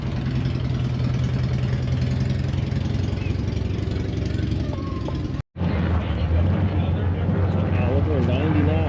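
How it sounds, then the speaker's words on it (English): An Oliver 99 tractor fitted with a Detroit diesel engine idles with a steady low rumble at an old threshers reunion, briefly cutting out before resuming, as people talk nearby. "Oliver 99 with a Detroit diesel motor."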